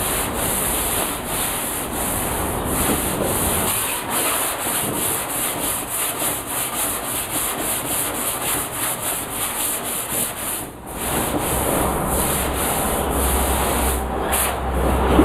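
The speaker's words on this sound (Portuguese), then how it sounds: "Esse é o trabalho de lixar isso aqui, ó." Steady hand sanding on the roof panel of a 1971 VW Beetle under restoration, a continuous close abrasive rubbing with rhythmic strokes and a short pause near the end.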